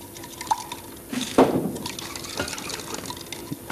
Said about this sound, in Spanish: luego añadimos un poquito de agua